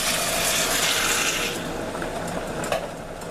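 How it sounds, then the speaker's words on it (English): Water pours into a cooking pot over sautéed garlic and onion for arroz, a steady splashing rush that eases midway into a softer hiss and bubbling, close and continuous, with a small clink near the end. "Now we're going to add the water"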